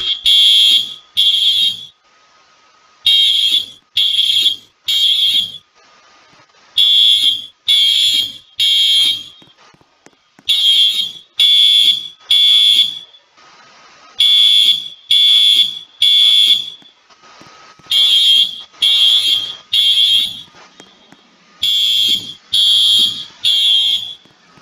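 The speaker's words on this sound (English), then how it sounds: "So you guys can obviously see the alarms are activated," A fire alarm in the Roblox game Greenville, Wisconsin sounds repeated loud triple-pulse electronic horn blasts in a steady temporal pattern, with each group of three followed by a short silence and continuing without voices.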